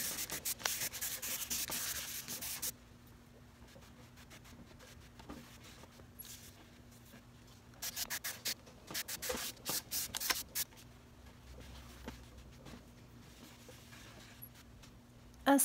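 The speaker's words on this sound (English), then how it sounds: "I'm using a very light 320 grit and I'm sanding by hand." Hand sanding of an old 1939 wooden table with fine 320-grit paper: a steady scratchy rasp at first, then quieter intermittent rubbing strokes in short bursts, close by with no talking.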